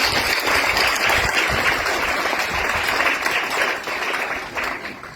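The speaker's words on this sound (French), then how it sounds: "On peut les applaudir bien fort." Applause from a church congregation at a Mass in Pabré fills the space, a steady dense patter of many hands clapping that holds loud and then thins slightly toward the end.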